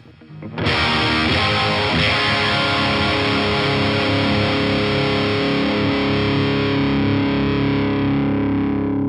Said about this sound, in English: the 2 voices are going to give you sort of that rocky, I suppose, British amp sound